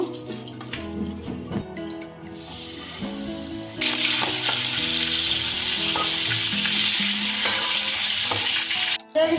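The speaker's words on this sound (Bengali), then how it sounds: "এখন মাথাটা ভেজে নেব" A catla fish head coated in salt and turmeric is lowered into hot oil, and a loud, dense sizzle bursts up and holds steady at close range, following softer frying and stirring sounds.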